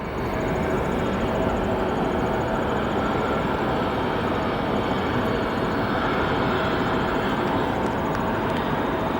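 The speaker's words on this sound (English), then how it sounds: "The 7-4 currently taxiing, making its way up north to the cargo hold at O'Hare National Airport" A Boeing 747 cargo jet taxis at O'Hare Airport, its engines giving off a loud, continuous roar with a thin high whine riding on top, steady and close for the whole stretch.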